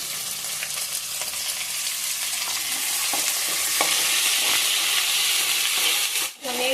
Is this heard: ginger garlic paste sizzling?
yes